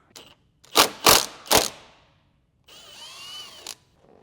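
A gear wrench ratchets on bolts of a Tesla Model 3 or Model Y front control arm: three loud close clicks or bursts, then a steady whirring ratchet run, with no voices.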